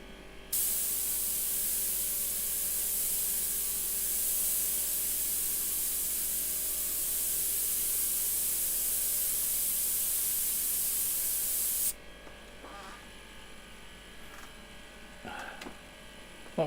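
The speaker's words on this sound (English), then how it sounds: "On comes the compressor." An air compressor feeds a spray, producing a loud, steady hiss for about eleven seconds before cutting off abruptly, leaving a low electrical hum and a few faint knocks.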